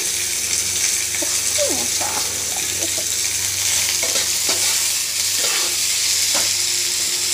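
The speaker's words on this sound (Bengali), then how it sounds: "দুটো পেঁয়াজ দিয়ে দেবো এর মধ্যে, ভেজে নেবো হালকা করে" Onions and chopped ginger frying in a pan, a steady close sizzle with occasional stirring scrapes and clicks of a spatula throughout.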